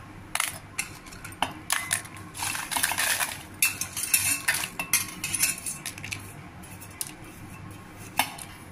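Roasted red chillies are ground into powder, with irregular bursts of harsh rattling, clattering and gritty crunching that rise and fall across the stretch, fairly close and without talk.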